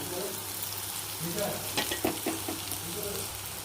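Tender tamarind leaves frying with dried prawns in a pan give a dense, close sizzle, with a cluster of scraping stirs near the middle.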